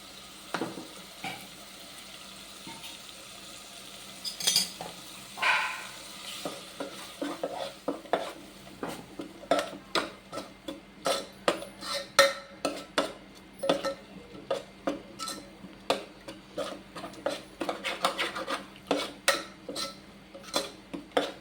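A ground spice paste for brinjal buttermilk curry is sautéed in a pan. Soft sizzling sits under sharp, irregular scrapes and clicks of a spoon against the pan, which grow busier and louder toward the end, with no voices.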